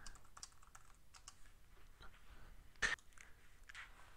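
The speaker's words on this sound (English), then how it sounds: "you can also type in some type of personal message if you'd like" Fingers type on a computer keyboard in quick, irregular bursts of soft clicks, with one sharper keystroke standing out, close and quiet with no talk.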